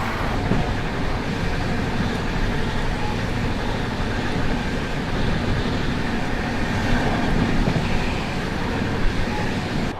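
A passenger train running on rails at night near Mirzapur, a continuous loud broadband rumble and roar from on board with faint rhythmic rail clatter throughout, no speech.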